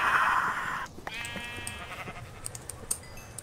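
A sheep bleats loudly in a video game for about a second, a wavering harmonic cry, followed by a quieter second bleat and faint scattered clicks and game sounds.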